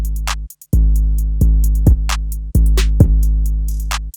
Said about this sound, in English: Then I just added a hi-hat and a snare that sound like this.